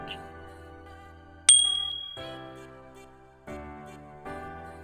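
A bright bell ding rings out once, followed by soft chime tones that fade over a quiet background of gentle music.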